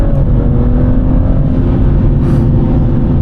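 A 2019 BMW 440i Gran Coupe, upgraded from stock, pulls hard under open throttle on an open road, its engine a loud, steady, close drone with a low rumbling growl throughout.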